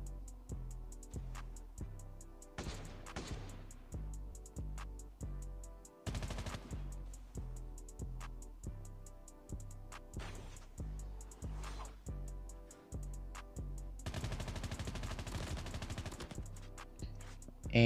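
An AK rifle in Call of Duty: Mobile fires in rapid repeating bursts with an even, pounding rhythm across the whole stretch, loud and close, with a few denser volleys mixed in.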